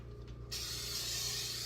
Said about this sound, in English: I'm going to first start about with spraying the inside of the crock pot